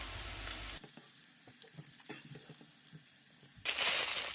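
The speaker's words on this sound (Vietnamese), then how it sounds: "Mình sẽ chiên thêm vài miếng chả lớn để dùng trong các món nước như là bánh canh, hủ tiếu, bún vân vân." Shrimp cakes fry in hot oil with a loud, hissing sizzle at the start and end and quieter popping and crackling in between.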